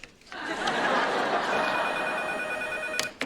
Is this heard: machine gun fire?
no